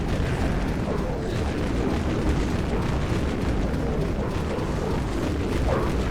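Dawn grenade launcher rounds in the Dead Frontier game burst in a continuous rumbling barrage of overlapping booms and explosions, loud and dense with no pauses.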